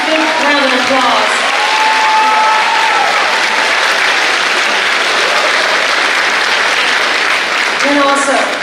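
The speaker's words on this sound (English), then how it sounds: "Let's give these Highlanders a big round of applause." Sustained loud applause fills a high school graduation ceremony crowd, steady and dense throughout, with a few voices and a brief whistle-like tone near the start and end.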